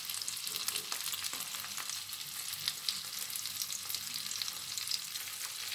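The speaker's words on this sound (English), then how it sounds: "we add our gizzard, which is already steamed, and stir" Steamed gizzard and sausage sizzle in a hot pan as they're stirred for a homemade spaghetti dish, with a steady frying hiss and faint scraping throughout.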